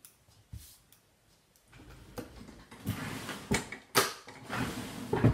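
Scissors snip across the corners and trim seam bulk on a sewn fabric coaster, giving a run of close, crisp cutting crunches and clicks that grow louder and more frequent toward the end.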